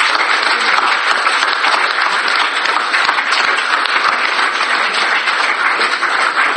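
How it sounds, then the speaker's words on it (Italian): Loud, dense applause from a large crowd at a church mass, sustained and even without a break, close and filling the room. "Un applauso."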